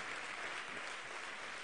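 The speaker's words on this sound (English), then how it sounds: "Another round of applause" An audience at the Tony Elumelu Foundation Entrepreneurship Forum 2017 applauds, a full, dense wash of many hands clapping at once, steady and sustained across the moment without any talking.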